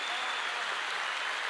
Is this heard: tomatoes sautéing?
no